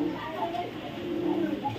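Pied tracer pigeons of an original Kittel line coo softly and nearby in a brief, low, throaty murmur, with a voice talking over the cooing.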